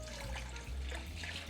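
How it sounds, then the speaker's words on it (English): About three cups of bone broth pour into a pot for a fall dinner, a soft, continuous watery gush and trickle heard close but quietly, with no talking. "I'm gonna be adding about 3 cups of my bone broth"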